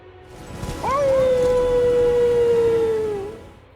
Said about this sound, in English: Once you hear the howl, go back to Merchant Kalé and ask about the howling in Mistwood.